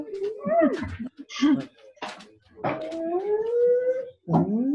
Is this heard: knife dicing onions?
no